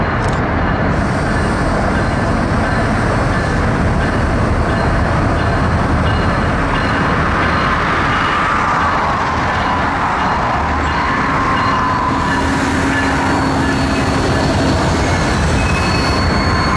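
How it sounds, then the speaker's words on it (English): A freight train pulling out of a rail yard rumbles steadily past close by, directly below, with metallic wheel squeal and clanking grain hoppers rolling continuously throughout. "decided to get a shot of the train rolling directly under me as it pulled out of the yard again"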